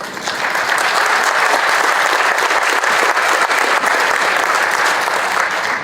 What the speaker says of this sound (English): Maybe a round of applause for those who helped put it all together.